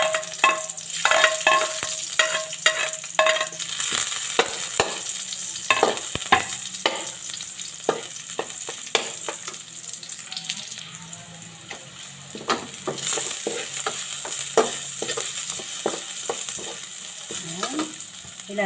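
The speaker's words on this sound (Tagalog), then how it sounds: "Ilalagay natin yung bawang mga mamshi." Garlic sizzling in hot oil in a pan for Bicolana-style pork adobo, a loud crackling fry broken by frequent sharp spatula clicks and scrapes, no one speaking.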